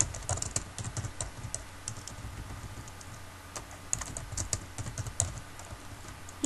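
Keys tapped on a computer keyboard while blog text is typed, a quiet, irregular run of close clicks alone without talk.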